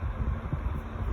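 A Duracraft 10-inch two-speed box fan runs on its high setting, giving off a steady, close, low rushing hum of moving air with no talk.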